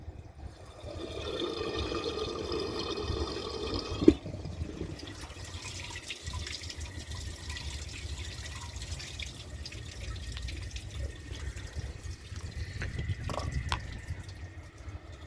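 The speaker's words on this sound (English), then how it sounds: "So let's add some water to the bowl" Water pours steadily into a toilet bowl during a toilet comparison, a continuous splashing fill that thins out after a few seconds into quieter trickling and dripping, with no talking.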